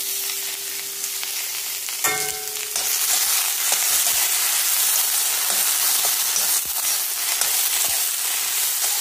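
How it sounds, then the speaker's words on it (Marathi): Okra (bhendi) fries in a kadhai for an aloo bhendi sabzi, giving a steady, close sizzling hiss throughout, with a brief clatter of utensils around two seconds in. "एका कढईत भेंडी भाजायला"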